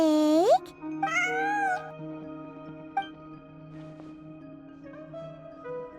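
A pet cat named Ashrew in Genshin Impact gives a clear, close meow with a rising tone, then a longer drawn-out meow, followed by softer game ambience and a sustained musical drone.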